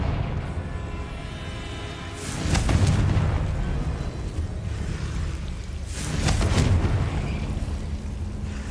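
Confringo blasting spell detonating in the Hogwarts Legacy video game, two heavy booming explosions several seconds apart, each swelling loudly over a low rumbling background.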